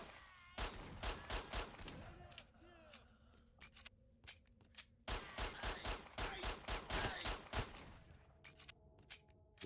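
Rapid bursts of gunfire ring out in S.T.A.L.K.E.R., loud sharp volleys in clusters separated by short lulls, with someone talking in between.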